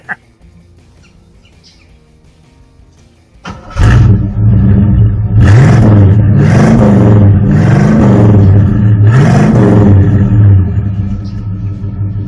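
An old first car's engine cranks and catches after a few quiet seconds, then settles into a loud, deep rumbling idle punctuated by several throaty revs that rise and fall, close up.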